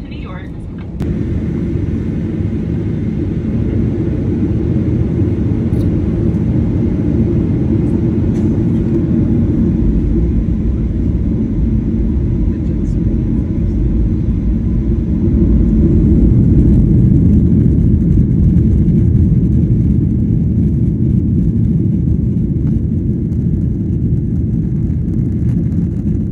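Loud steady airplane cabin drone during a flight to New York, a deep continuous roar filling the whole stretch with little variation.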